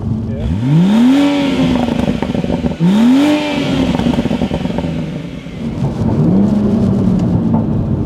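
A tuned BMW M140i in a dyno cell revs up in three rising pulls, its exhaust rumbling and burbling between them. The engine is loud and close, with voices talking underneath.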